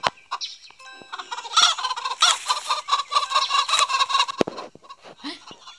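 A chicken in the Roblox video game clucks and squawks repeatedly in quick, uneven bursts, sounding close and fairly loud, with a few sharp clicks in between.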